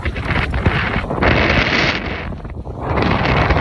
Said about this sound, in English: It was so unbelievably windy up there.